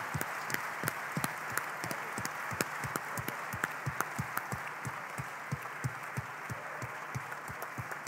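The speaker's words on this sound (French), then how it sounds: "On peut les applaudir très fort." Audience applauding at an African young-entrepreneur prize ceremony after a first-prize winner is announced, a steady wash of clapping with sharp individual claps standing out throughout.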